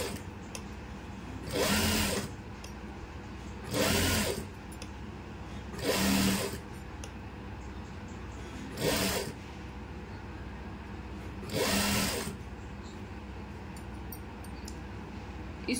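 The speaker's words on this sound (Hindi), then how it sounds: "यहाँ रखते हुए बीचों बीच सिलाई लगा लेंगे।" A sewing machine stitching lace onto a dupatta runs in five separate bursts of roughly a second each, with quiet pauses between them, close and moderately loud.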